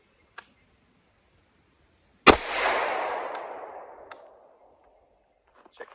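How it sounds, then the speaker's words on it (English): A .380 Auto pistol fires a single 9mm round outdoors, giving one sharp, loud report with a long echoing decay that dies away over a couple of seconds, while a steady insect chirp continues in the background. "Let's just fire off there and see where this stuff flies."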